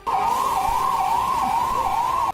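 A fire brigade siren sounds as the crew arrives at a burning building. It is a loud, continuous wail that rises and falls in smooth cycles, close by and with nothing else in the foreground.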